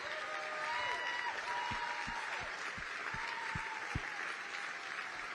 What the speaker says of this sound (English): How about a round of applause for our veterans?